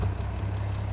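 1958 AMC Rambler Super engine idling at about 1,000 RPM with a steady low rumble, close and even, heard during valve adjustment.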